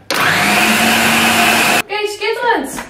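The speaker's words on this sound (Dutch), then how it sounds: "Dit gaat nu in de blender." A countertop blender whirs loudly and steadily for nearly two seconds as it purées mustard and other ingredients for a vegan seitan steak, then cuts off and a voice talks.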